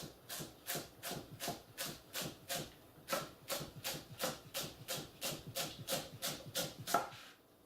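A knife chops celery on a cutting board in a steady, even rhythm of about twenty soft, close strokes, each a short crisp crunch and tap, with no talking.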